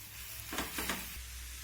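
Chicken with spices, vegetables and potatoes is stirred in a pan, giving a few short scraping bursts over a steady low sizzle, close and fairly quiet.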